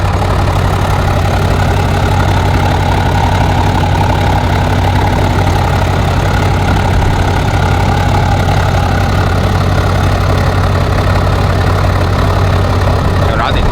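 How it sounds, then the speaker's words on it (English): A Jeep SRT engine idling with its valved mufflers open, giving a loud, steady, deep rumble that holds unbroken throughout. "this is how I sound at idle with the valves open"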